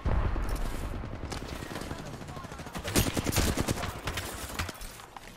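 Rapid bursts of gunfire from an Apex Legends match crackle through a dense, busy mix, with shots clustering loudest around the middle amid other game noise and some voice chatter.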